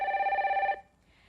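A telephone rings with an incoming call during a broadcast phone-in program, a single sharp warbling electronic ring lasting under a second before cutting off into quiet.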